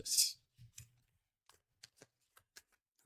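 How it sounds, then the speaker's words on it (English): Cards being shuffled: a sharp papery riffle burst, then a few soft flutters and a scatter of light ticking snaps, close and fairly quiet. "probably give it one more good shuffle"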